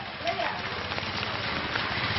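Steady rain pours down on a rainy day in Africa beside a Catholic school, making a dense, continuous close hiss with scattered drop patter throughout, and faint voices mixed in.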